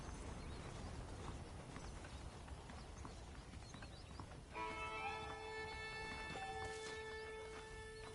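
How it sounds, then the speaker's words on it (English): Saddled horses clip-clop along in the Western video game Red Dead Redemption, a steady run of hoof beats under a busy ambient bed, with a musical score rising in over the second half. "The horses are saddled up over here."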